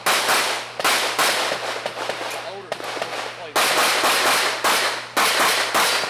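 Rapid pistol gunfire at a USPSA shooting match, loud sharp shots in quick bursts with short pauses between strings.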